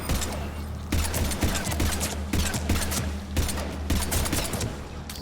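Rapid pistol gunfire from the Mass Effect 3 video game, loud bursts of shots in quick clusters separated by brief pauses, dense and close throughout.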